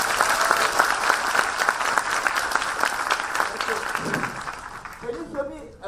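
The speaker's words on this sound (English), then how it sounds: "give yourself a round of applause for being here" Sustained audience applause filling a hall at the Financial Growth Summit, dense clapping that gradually thins and fades near the end as voices emerge.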